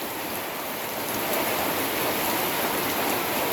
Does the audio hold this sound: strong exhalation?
no